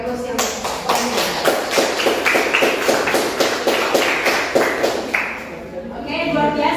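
A classroom audience claps after a class presentation, a dense burst of rapid hand claps that runs for several seconds before thinning out, with voices mixed in.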